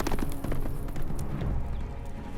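Horse hooves clip-clop in a steady trotting rhythm in a Game of Thrones video game, loud and close over dense game ambience and music.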